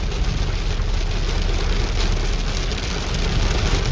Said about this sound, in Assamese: চাওক ইমান বৰষুণ